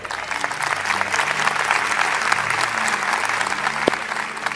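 An audience at a Danilo Montero church event in Lakewood claps in sustained, dense applause, a steady wash of hand claps that holds at an even level throughout.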